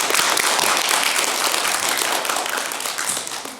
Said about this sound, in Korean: 함께 큰 박수 여러분